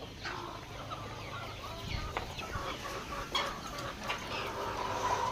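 Black Australorp chickens, breeding birds on a poultry farm in Maharashtra, cluck and murmur over a steady farmyard background, with scattered calls rising now and then at moderate distance.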